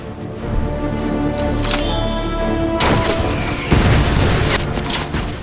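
Gunfire in a battle at a castle during a war documentary, dense loud volleys and booming shots crackling continuously, with a whistling streak before a heavier barrage.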